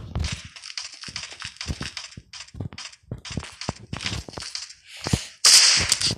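Rapid gunshots ring out in a video game, a dense series of sharp cracks and bursts that ends with a louder blast.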